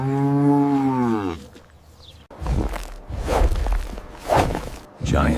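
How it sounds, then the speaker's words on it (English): A small black farm cow gives one long, loud, close moo that tails off, followed by shuffling, scuffing movement sounds. "This is a small black farm cow."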